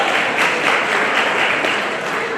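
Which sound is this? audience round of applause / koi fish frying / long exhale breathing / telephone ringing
audience round of applause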